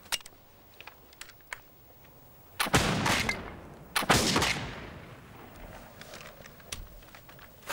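Rifle shots at a shooting match with targets 80 meters away crack out twice, loud and close with echoing decay, separated by over a second, after a few faint clicks in an otherwise quiet outdoor scene.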